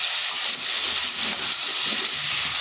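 Pumpkin pieces fry in a pan with a constant, fairly loud hissing sizzle that holds steady throughout, with no talk over it.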